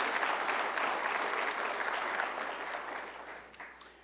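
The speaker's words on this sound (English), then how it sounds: "we sure owe Roman a round of applause" Applause from the audience at a 2023 State of the City address in Mansfield, Texas: dense, steady clapping from a roomful of people that slowly thins and fades toward the end, with no voices over it.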